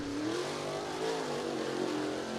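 A late model race car engine drones steadily at a distance during qualifying at Cottage Grove Speedway, its pitch rising and falling slightly as it laps.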